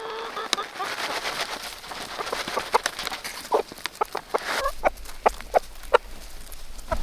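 Backyard hens waiting for treats cluck and make short sharp calls at close range over a steady outdoor background, with a few louder squawks standing out.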